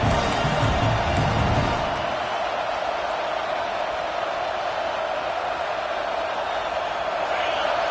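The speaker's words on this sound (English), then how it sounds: "Listen to this crowd just shaking the girders of this place trying to help their defense" A dense, steady roar of a large college football stadium crowd on a third down, loud and sustained throughout, with a brief swell of noise at the very start.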